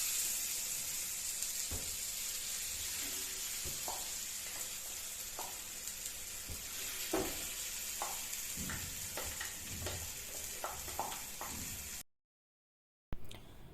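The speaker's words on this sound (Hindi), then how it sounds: "तो ये जो पेस्ट है ये भूनना है हमने 5 से 7 मिनट के लिए" Pea paste sizzling steadily as it fries in a pan, with soft intermittent scrapes and clicks of a spoon stirring it close up, then a brief drop to silence near the end.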